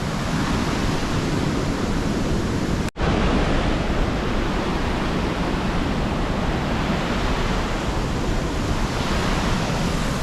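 Steady roar of Toorongo Falls, a waterfall on a river near Noojee, Victoria, heard as dense continuous rushing water close by, broken only by a sharp momentary cut, with no talking.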